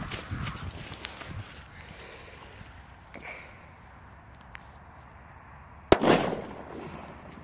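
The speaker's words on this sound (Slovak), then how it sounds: "teraz sa už presúvame na lepšiu kategóriu a to je Doom Boom Middle, to sú 1 gramové petardy" A Doom Boom Middle 1-gram firecracker goes off outdoors as a single loud, sharp bang near the end, after several seconds of quiet background noise.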